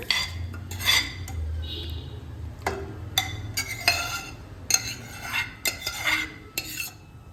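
Soaked rice tipped into a pot for boiling while making Hyderabadi kaju paneer biryani brings a series of close metallic clinks and scrapes of a utensil against the pot, with brief pauses between them.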